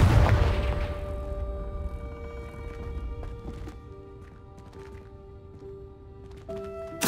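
A Confringo blasting spell explodes in Hogwarts Legacy, a loud booming burst at the start that decays into a rumbling tail under game music, with scattered smaller impacts later and a sharp hit near the end.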